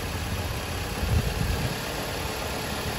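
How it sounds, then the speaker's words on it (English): A 2010 Chrysler Sebring engine idles steadily with the hood up, a low constant running drone with a slight swell in the middle and no talk over it. "Okay, so the car is running at the moment."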